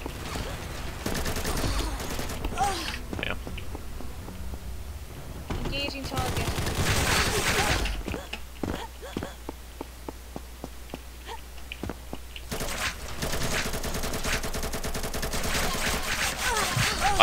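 Gunfire from the shooter game Combat Master pops in rapid automatic bursts and single shots, loud and repeated, with a player's voice talking over parts of it.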